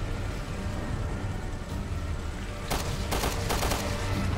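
Gunfire in the video game Resident Evil: Revelations 2: a rapid burst of sharp shots near the end over a steady rumbling game background, loud and close, with no talk over it.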